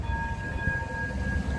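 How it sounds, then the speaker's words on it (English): A new Blackpool flexi tram approaches with a steady high electric whine and a low rolling rumble, close and continuous over the short span. "Here comes one of the new flexi trams."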